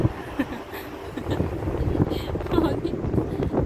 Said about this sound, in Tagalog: Lakas ng hangin sa labas.